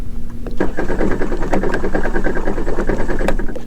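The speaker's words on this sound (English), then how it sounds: "So to crank in drown mode, all we're going to do is go ahead and squeeze the throttle all the way and then press the start button." Sea-Doo jet ski engine cranking in drown mode with the throttle held fully open, a loud close rapid rhythmic churning of the starter turning the engine over continuously without catching.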